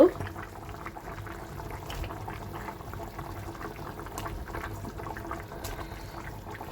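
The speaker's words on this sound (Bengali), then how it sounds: "এইদিকে আমার ঝোলটা ফুটে গেছে" Salmon fish curry broth bubbles in a pot on the stove, a soft, continuous simmering gurgle with faint clinks, heard fairly quietly while someone speaks now and then.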